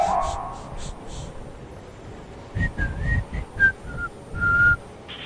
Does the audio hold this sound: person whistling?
yes